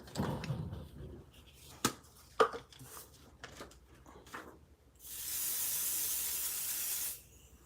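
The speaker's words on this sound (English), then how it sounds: "I think I'll use pixie spray just to make sure that it isn't going to go anywhere" Pixie spray being sprayed onto a craft project: a steady hissing burst of about two seconds near the end, preceded by soft handling clicks and taps at a quiet indoor table.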